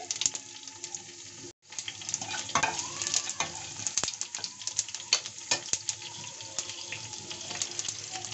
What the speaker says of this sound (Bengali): উপর থেকে দিয়ে দেব অল্প একটু সর্ষের তেল, ফোড়ন দিয়ে দিচ্ছি 5 ফোড়ন